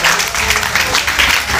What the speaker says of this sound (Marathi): अक्षय दादांसाठी जोरदार टाळ्या होऊ द्या जरा